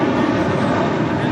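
A jet airliner roars loud and close while arriving on runway 24 left on the north side of LAX, a dense, steady rumble across the whole short stretch.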